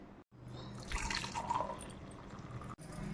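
Water drains from cooked lentils, dripping and trickling out close by in a short run, dribbling steadily before stopping.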